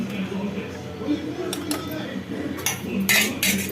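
A utensil scrapes and clinks against a metal pot of thickening tiyal kulambu curry in irregular strokes, close up, over a low steady background hum.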